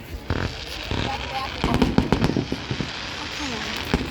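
Green fireworks burst overhead in a series of quick crackling pops and bangs, not rising very high, while excited voices talk over the display.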